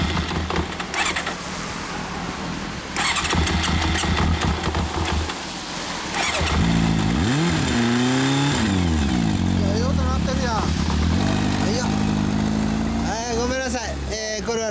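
A Honda NS50F motorcycle with a Yoshimura exhaust revs up and down several times, rising and falling in pitch, loud and close, after an idling start.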